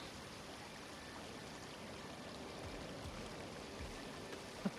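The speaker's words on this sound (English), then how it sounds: "Listen to the water in that 3D audio" Flowing water in God of War Ragnarok, heard as a quiet, steady stream-like wash of rushing water that continues evenly throughout, with a small knock near the end.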